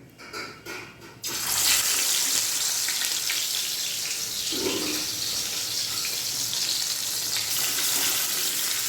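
Fish frying in two pans gives a loud, continuous sizzling hiss that sets in abruptly after a brief quieter moment and stays steady and close.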